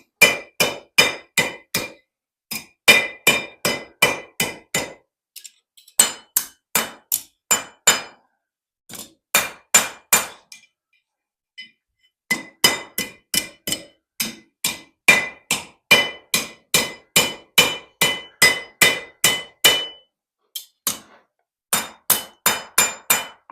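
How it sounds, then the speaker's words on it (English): Rhythmic bursts of a blacksmith's hammer blows on hot iron ringing on an anvil while forging a hook at Fort Frederick, fast runs of strikes separated by brief pauses, loud and close. "go ahead and hammer away"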